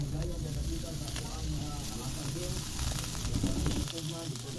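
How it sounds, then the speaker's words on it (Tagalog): Garlic, onion, carrots and mushrooms are stirred as they fry in a pan, giving a steady loud sizzle and hiss with scraping stirring noises throughout and faint talk underneath. "stir the garlic and onion and mix with the carrots and also the mushroom"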